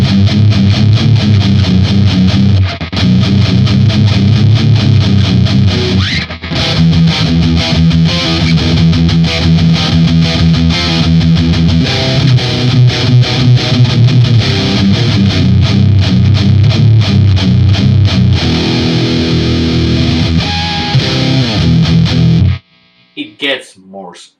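Heavily distorted electric guitar played through a Marshall DSL1 1-watt amplifier on its ultra gain channel, loud and sustained with chugging riffs and ringing chords that run without pause until the last strum cuts off abruptly.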